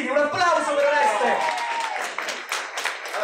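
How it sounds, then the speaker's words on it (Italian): Audience applause at a Romics 2019 convention panel in Rome, a short burst of crowd clapping and cheering that fades quickly under a speaking voice. "un applauso per Oreste!"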